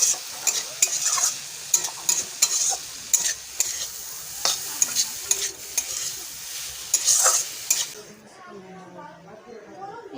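Cabbage being stir-fried in a pan with salt, chili powder and green chili, with repeated scraping stirs and a steady sizzle for about eight seconds before the cooking noise drops away into quieter room sound.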